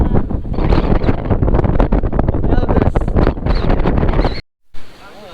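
Strong wind buffets the microphone during a boat ride at sea, a loud, continuous roar and rumble that cuts out near the end, with speech partly buried in it.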